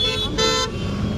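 Car horn honking amid heavy traffic at a busy crossroads in Maharashtra, a couple of short close toots cutting over the dense rumble of engines.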